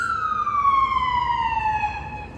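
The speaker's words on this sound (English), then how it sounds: "Cops, police, ambulance." Police and ambulance sirens: a single loud siren tone gliding steadily downward, clear and fairly close over faint background rumble.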